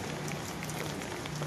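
Rain falling steadily on a cold village, a dense, even patter and hiss that stays constant and close throughout, with no talking.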